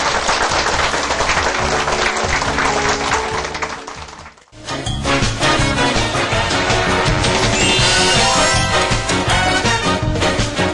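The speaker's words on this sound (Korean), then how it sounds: "주님께 박수." A live audience at a Korean English-grammar lecture bursts into loud, dense sustained applause that drops off briefly partway through, then swells again and continues.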